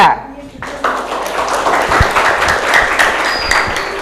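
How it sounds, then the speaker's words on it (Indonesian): A classroom full of students bursts into applause for a presenting group, sustained clapping that swells after a brief quiet start and carries on steadily, with a voice briefly audible beneath it. "aplaus untuk kelompok 3"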